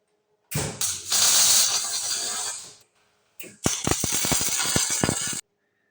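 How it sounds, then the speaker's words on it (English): Steel bosses being welded onto steel plates in a scrap-metal workshop for a tractor chain mulcher: two sustained bursts of loud crackling, hissing arc with sharp sputtering pops, separated by a brief pause. "I will weld these bosses onto the plates"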